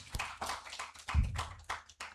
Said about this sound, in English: Let's clap for yourselves